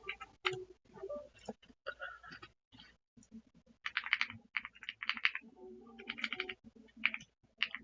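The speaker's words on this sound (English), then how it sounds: "need to actually type on this thing." Typing on a Mao Wang GK65 Cat Universe mechanical keyboard with swapped switches: fast, clicky keystrokes in bursts with short pauses, close and fairly loud, and nobody speaking.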